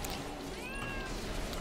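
A person imitates a cat with a single drawn-out, wavering meow that rises and falls over a steady background hiss.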